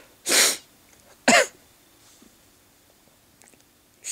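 A person who is sick with a cold sneezes twice in quick succession, each sneeze a short loud burst, followed by faint breathing and quiet room noise.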